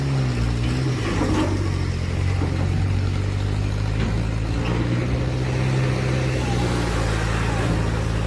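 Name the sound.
semi-truck engine roaring, wheels spinning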